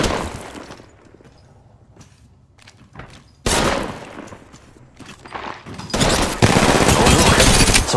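Video game gunfire erupts in loud automatic bursts and scattered single shots, with heavy booming volleys near the end and quieter thuds between, no talk audible.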